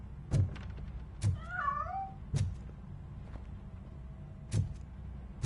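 Cat escaping in Robocop Rogue City, with one brief, wavering meow amid several sharp thuds and knocks spaced irregularly over a low background hum.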